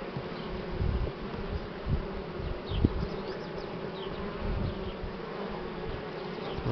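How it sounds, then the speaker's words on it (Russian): Buckfast honeybees swarm around an opened hive on a sunny spring day, giving a dense, continuous buzzing drone at close range, with individual bees flitting past and small thuds of frame handling, no voices. "немного загоню пчел, чтобы не давить случайно"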